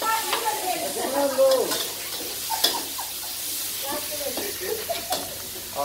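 Egg being stirred and fried into a scramble for pad Thai in Chiang Mai, Thailand, a bright steady sizzle with scraping stirs, close up, while people talk briefly.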